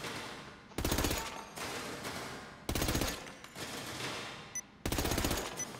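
Suppressed gunfire at a shooting range in GTA 5 comes in several rapid automatic bursts of muffled, clattering shots, each about a second long, separated by brief pauses, fairly close and alone with no talking.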